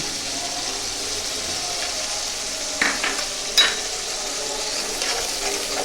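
Yogurt and cashew paste being stirred in a pan over low heat, a soft continuous sizzle with a few light scraping knocks of a spoon midway.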